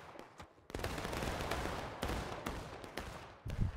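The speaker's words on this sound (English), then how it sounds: "A little volley from HL there" Musket volley fired by an infantry unit in War of Rights, a faint, distant crackle of many shots merging into a sustained rolling burst, with a few separate sharper reports before and after.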